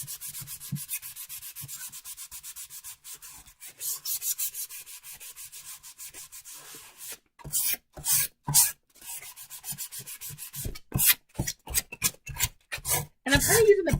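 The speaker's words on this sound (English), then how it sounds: "I do need to sand my surface" Sandpaper rubbed over a wooden wall surface, with scratchy strokes that start soft and continuous, then turn into louder, quick back-and-forth bursts close by.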